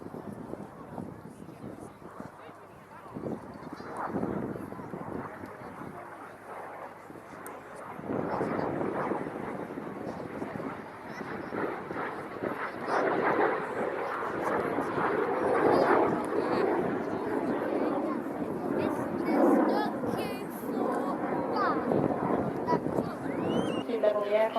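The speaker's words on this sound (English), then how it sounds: "level the aircraft upside down for the inverted pass" A Tutor training aircraft flying an aerobatic air show display at RAF Cosford, including an inverted pass, its engine a steady, sustained drone that grows louder over time, with wind rumble and a commentator talking over it.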